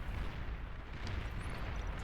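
Continuous heavy booming and rumbling of cannon fire in the Beyond All Reason strategy game, dense overlapping blasts with no clear gaps, loud and sustained throughout.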